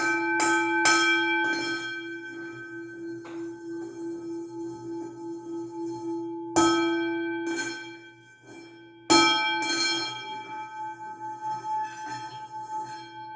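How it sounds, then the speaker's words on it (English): A small bell is struck several times, each strike ringing out with a bright, sustained shimmering tone that slowly fades between hits. "Got a little singing bell."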